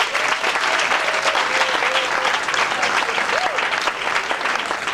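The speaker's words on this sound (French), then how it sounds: "Pouvons-nous applaudir, s'il vous plaît?" Audience applause at a children's week performance event, a steady dense clapping that fills the whole stretch, with a voice speaking briefly over it.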